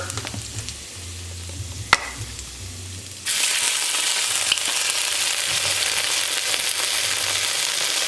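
Garlic and ginger sizzling in a frying pan while shrimp and scallops are cooked, a loud steady hiss of frying that jumps louder partway through as more goes in, close and continuous with no voices.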